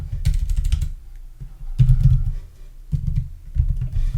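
Close-miked keyboard typing while writing JavaScript console code: clusters of rapid keystrokes broken by short pauses, a soft, bassy clatter with no voice.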